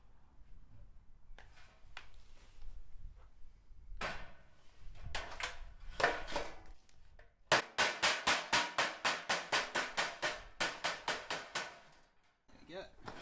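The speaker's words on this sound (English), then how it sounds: "I usually give it a tap with my hammer once I'm done" A hammer taps a metal sump into a box gutter in a rapid run of about a dozen sharp, evenly spaced knocks, loud and close, after some scattered handling clatter.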